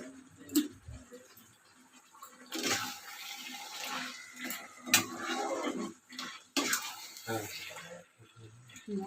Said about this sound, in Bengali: হাতটা ধুই।